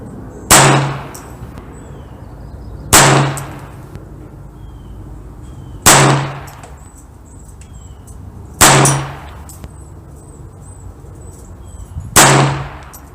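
Five evenly spaced sharp reports from a Browning Buck Mark .22 handgun fired at a target 25 yards downrange, each crack loud and close with a short decaying ring, about two and a half seconds apart.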